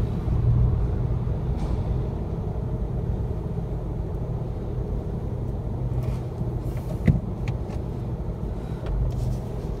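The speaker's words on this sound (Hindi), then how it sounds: "देखिए, मैं अभी निकालूंगा बेसमेंट से कार को अपनी।" A car climbs out of a basement parking garage in first gear without using the clutch, a steady low engine rumble that stays loud and close, with a few brief clunks and knocks near the end.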